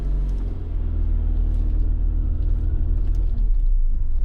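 Alfa Romeo with a raspy V6 engine pulls away, a loud close rumbling engine note that builds steadily as the car drives off, with mild revving and no talk.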